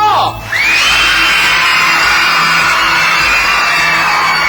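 A television studio audience screams and cheers loudly and continuously, a sustained high-pitched roar of excited voices after a brief moment of quiet.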